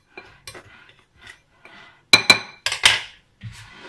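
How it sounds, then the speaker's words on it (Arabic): A spoon mixes dried spices and dried garlic in a bowl, giving soft scrapes followed by a quick cluster of sharp, close metallic clinks and knocks against the bowl, with no talking. "وأخلط هاي المواد كلها مع بعض، تخليها تختلط"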